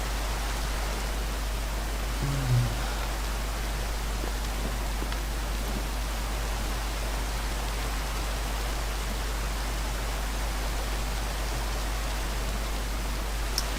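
Steady rain in Minecraft hisses evenly throughout, a dense wash of drops with no pauses and a faint low hum underneath.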